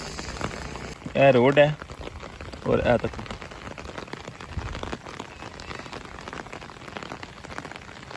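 Heavy rain falls steadily near a road and bridge in Mirpur, Kashmir, a constant loud hiss throughout, with someone talking briefly over it near the start.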